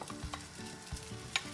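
Green beans frying in a pan, a soft continuous sizzle with a few stirring scrapes and light taps, close up and fairly quiet.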